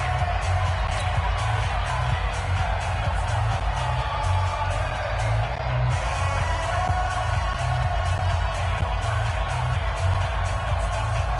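Crowd noise in a PS4 American football video game, a steady roar of cheering stadium fans that holds at an even level throughout.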